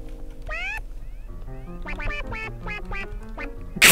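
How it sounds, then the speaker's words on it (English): A synth instrument called Dirty Duck in Mixcraft plays a series of nasal, quack-like notes with bending pitch, one isolated then a rapid cluster of about eight, ending in a sharp burst. "I have an instrument in Mixcraft called Dirty Duck"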